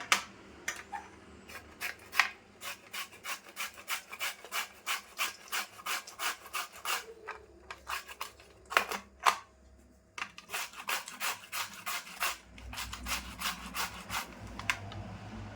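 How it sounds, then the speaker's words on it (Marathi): Cucumber pieces are grated on a small hand grater for a traditional Malvani cucumber dish, giving a fast run of crisp, rhythmic scraping strokes that pause briefly and then resume. "आता मी एक किसून घेते किसणीवर माझ्याकडे किशणी पण छोटीच आहे"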